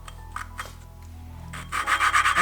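An engine valve from a Turbo 660 engine being lapped against its seat with valve grinding compound, giving a gritty scraping rasp that turns louder and rhythmic, in quick repeated strokes, partway through.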